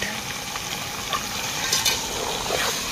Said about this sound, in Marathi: आता मस्त त्याला हळदीमध्ये आणि तेलामध्ये परतून घेणार आहेत